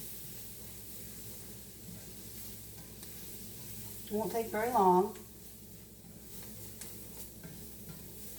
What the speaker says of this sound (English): I'm going to stir that around and get that worked in.